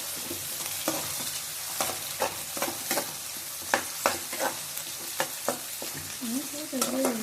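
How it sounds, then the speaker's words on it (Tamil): Onions, chillies and curry leaves sizzle and fry in a pan for mutton liver gravy, with repeated scraping stirs knocking through the steady hiss, close and alone. "வெங்காயம், மிளகா, கருவேப்பிலை எல்லாத்தையும் ஒன்றா போட்டு வதக்கிக்கோங்க நல்லா."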